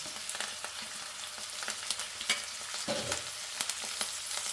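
Onion, green chillies and curry leaves fry in oil for an okra dish, a steady close sizzle with occasional stirring scrapes and clicks, no voices.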